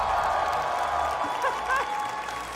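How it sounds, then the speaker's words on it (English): An esports crowd at a Red Bull Home Ground event applauding: a short, steady wash of clapping with a few whoops rising over it, fairly loud throughout. "Please give a huge round of applause to Yinsu!"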